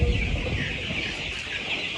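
Young farm chickens cluck and chatter inside a poultry shed, a dense layered chorus of many birds close by with a steady hum underneath.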